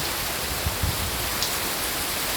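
Steady rain falls in a dense, even hiss that holds for the whole stretch, with a couple of faint low thumps, and no one speaks.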